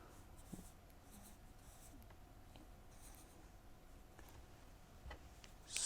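Writing on a classroom board while sketching a polymer network: faint, quiet scratching strokes with light ticking taps, spread across a hushed room with no talking.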